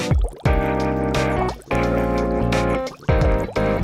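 In a NIKKE game scene, water flows and drips with bright, resonant, tonal gurgles. The bubbling, filling pulses come in about three bursts separated by brief dips, close and clear with no talk.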